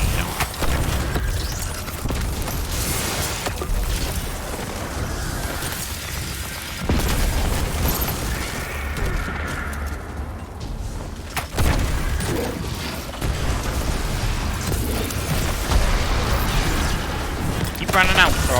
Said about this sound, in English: Throw this grenade on.